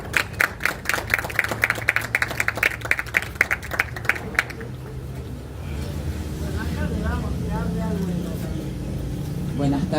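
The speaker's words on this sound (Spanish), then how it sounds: "Así que se merece un buen aplauso." Scattered, uneven audience clapping at a literary event rings out crisply for several seconds, then stops and gives way to a low, steady rumbling background noise.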